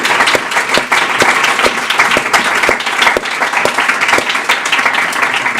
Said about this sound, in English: They've been a fabulous panel, so please give them a round of applause.